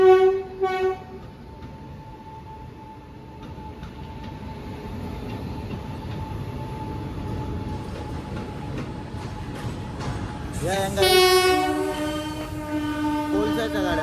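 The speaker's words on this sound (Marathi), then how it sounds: "कोलसाच्या गाड्या, कोलसा येते, मालगाडी कोलसेलचं येते, सगळं येतं बघा." Freight train hauling coal wagons passes, a long steady horn blast over a low rolling rumble, then a second louder, richer horn near the end, with brief talk at the start.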